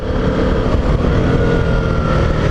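A KTM Duke 125 motorcycle squeezes through traffic jams, its engine droning loud and close with steady throttle and a brief rise in revs.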